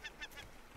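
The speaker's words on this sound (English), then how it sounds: "Bird." A bird in the survival video game Raft gives a few short, faint honking calls in quick succession.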